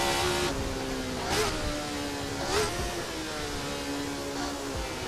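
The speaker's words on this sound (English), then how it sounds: "hopefully I got the audio mix right and you can hear that engine, because apparently it was taken from real samples" Race car engine in an Assetto Corsa mod built from real recorded samples, a steady mid-pitched drone with rising and falling revs and several sharp shift-like surges, loud and continuous with no talk.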